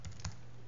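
Two quick keystrokes on a computer keyboard as a command is typed at a terminal, close and crisp, followed by quiet hum.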